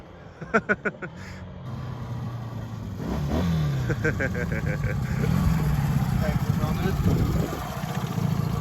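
A Honda CB 125 K5 motorcycle engine revs and runs nearby, a steady low putter that builds and carries on under someone talking, with a few short blips early on.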